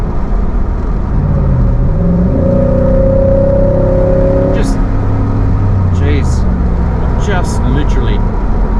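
A Nissan Y62 Patrol fitted with a Torqit cat-back exhaust pulls away on light throttle, its engine note rising in smooth, sustained tones, loud and close, while someone speaks over it.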